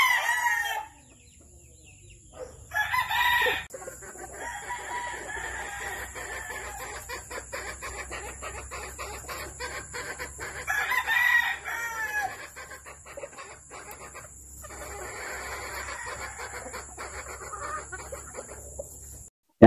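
Gamecock rooster, a pure hatch straight-comb bird, crowing and clucking in short bursts over a steady background hum, with several loud calls spread through the clip and no talking.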